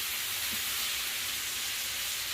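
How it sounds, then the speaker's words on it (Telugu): Tomatoes frying in hot oil in a pan for dhaba-style paneer masala curry, a dense, even hissing sizzle that holds steady throughout the short stretch, with no voices. "టమాటాలు వేసినానండి, ఇవి కొంచెం బాగా మగ్గాలి, ఫ్రై కావాలి."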